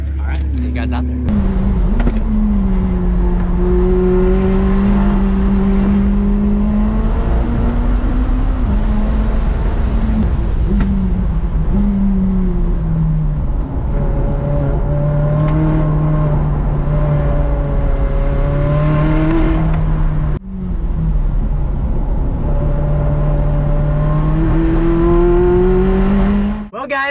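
A McLaren 600LT lapping the track at Willow Springs, its engine droning loudly and continuously as the pitch climbs and falls through gear changes, with a voice talking over it.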